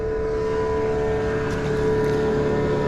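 A steady motorboat engine drones with a constant low hum and whine, moderately close, with no voices.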